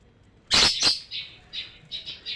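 Bright, loud calls of a white-rumped shama: two sharp chirps up front, followed by several softer whistled notes at a steady pace, close by with no talking.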